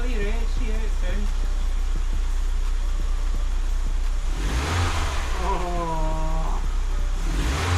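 A restored BMW Z3 engine starts and idles in a garage, a steady mid-pitched running note with a brief rise in revs midway, while people talk over it nearby.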